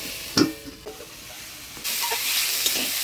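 Dheki greens with potato frying in a pan, with a sharp clink and a brief scrape of stirring at first. A steady close sizzle then rises and holds to the end.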